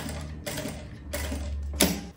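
A sewing machine runs stitching a finishing seam on a handmade wallet, three short close bursts of rapid mechanical whirring separated by brief pauses.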